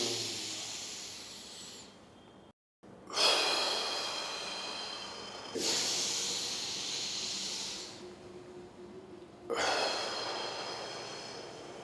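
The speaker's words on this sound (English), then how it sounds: "So I'm breathing to the maximum." Slow, deep, maximal breaths drawn in and pushed out as a breathing demonstration, heard as long airy hissing swells with brief pauses between them. The breathing is close and steady, with no speech.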